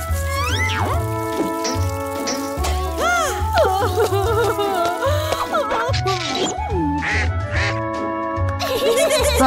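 Cartoon duck quacking in repeated, bright, rhythmic bursts over playful background music, loud and close.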